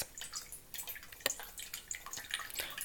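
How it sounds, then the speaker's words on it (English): Water drips and trickles through a homemade rice water filter, a quiet, continuous patter of many small irregular drops close by. "Once you pour the water through, it goes through the funnel and then through the water filter."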